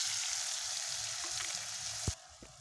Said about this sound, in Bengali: মশলাটা ভালো মতন কষানো হয়ে গেছে